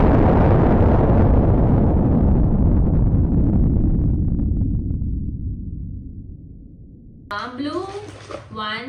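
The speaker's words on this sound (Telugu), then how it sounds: "ఇది ఆటం బాంబు గైస్" An atom bomb firecracker bought for Diwali bursts close by with a huge, loud blast that roars and slowly fades over several seconds, followed by people talking.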